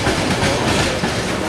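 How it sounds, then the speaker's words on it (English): A Wheeling and Lake Erie tank train hauled by SD40T-2 locomotives rolls past close by, a dense, continuous roar of wheels and cars with steady clatter and no voices. "And this train's still coming."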